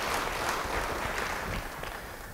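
A church congregation applauds throughout, a dense, steady clatter of clapping that holds at an even level before easing slightly toward the end.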